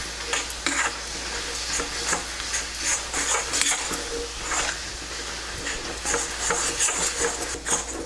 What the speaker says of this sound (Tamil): அப்புறம் அந்த இருக்கிற நெய்யும் அதில் விட்டுட்டு கொஞ்சம் நல்லா கை விடாமல் கிளறி விட்டுருங்க.